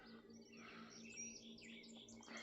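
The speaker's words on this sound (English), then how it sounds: "the birds are chirping" Birds chirp and tweet steadily at a distance on a calm summer evening in the countryside, with a mix of bright overlapping calls above a low steady hum, with no talking.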